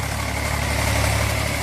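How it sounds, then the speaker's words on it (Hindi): An Eicher 485 tractor engine runs at a steady, loud idle close by, a continuous low throbbing rumble while working with brick clay mixture, with no voices. "ट्रैक्टर में है ज्यादा रिजर्व पावर, जिससे अचानक लोड आने पर या अधिक लोड आने पर भी यह ट्रैक्टर बड़े आराम से चलता है।"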